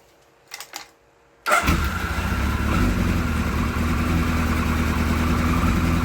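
An engine with carburettors cranks and catches abruptly, then settles into a steady, loud warm idle just under 1,000 rpm, with a low, even rumble that continues to the end.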